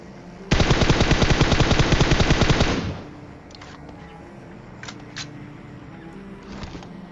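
Rapid automatic gunfire in a battle royale video game rattles loud and close for about two seconds, then cuts off, leaving quieter game ambience with a few faint distant pops.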